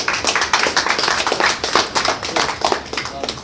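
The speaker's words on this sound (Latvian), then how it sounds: "Aplausiet" Audience applause at the opening of a Tele2 customer service centre in Latvia, a lively crowd clapping loudly and steadily with distinct rhythmic claps throughout.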